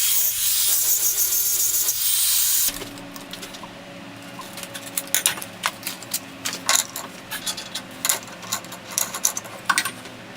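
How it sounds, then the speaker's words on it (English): An angle grinder fitted with a flap disc grinds down steel welds for a console table's legs, a loud rushing hiss for a few seconds that then cuts out, followed by scattered metallic clicks and taps. "I ground down the welds with the angle grinder and cleaned up all the metal"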